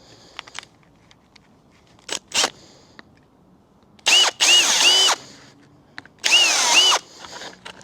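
A power drill bores holes into plastic grid mats for a grass driveway. Two loud bursts of high whining drilling stand out, with a few scattered clicks and knocks between them.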